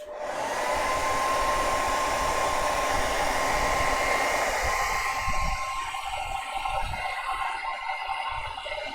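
A hair dryer roars steadily and close up as it dries a wet craft project, a continuous loud blowing whoosh with a faint whine that softens slightly toward the end.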